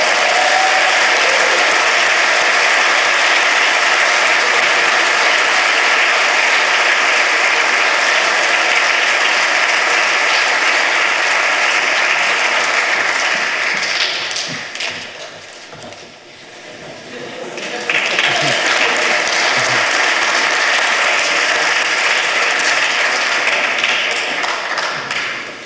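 A large audience at a science award ceremony applauds in a long, loud, continuous ovation. The clapping dips briefly midway, then surges back to full strength.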